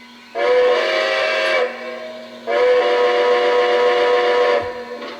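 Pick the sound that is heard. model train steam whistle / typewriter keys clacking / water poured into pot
model train steam whistle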